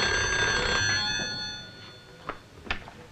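A telephone bell rings at a family-run liquor shop, a steady repeating trill that fills the first half, then fades into faint room sounds with a few soft clicks.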